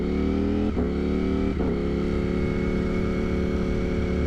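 A 200+ horsepower motorcycle with a loud aftermarket exhaust idles heavily and steadily up close, with two quick blips of the throttle near the start and a deep rumbling drone throughout.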